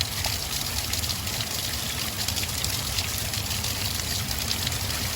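Water pours steadily over hair outdoors, a continuous close splashing trickle with no talking.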